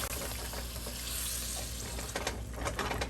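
Pasta sauce and water stirred together in a pan for a vegan rose penne, a close, continuous wet sloshing and bubbling sizzle with scraping, steady throughout and without talk.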